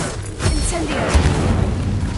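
A fiery spell bursts out in Hogwarts Legacy on PS5, giving a low rumbling whoosh with a brief boom, mixed in with other game sounds and a voice over the top.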